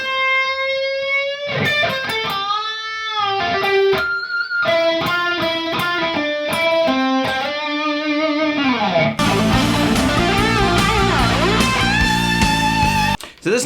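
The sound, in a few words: electric guitar playing a solo opening phrase slowly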